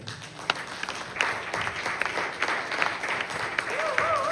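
A church congregation applauds the Lord during a French-language Sunday service at Source of Life church in Lexington, Kentucky, with steady clapping filling the room over a murmur of voices.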